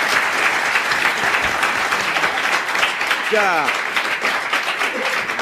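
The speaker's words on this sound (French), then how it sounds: "On l'applaudit." Studio audience of a French radio game show applauding loudly for a winning contestant, continuous dense clapping with a brief voice rising over it midway.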